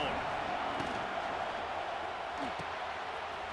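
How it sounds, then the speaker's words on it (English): Steady roar of a stadium crowd in a college football video game, a broad continuous wash of noise with a commentator talking over it throughout. "This crowd ready to make its presence known."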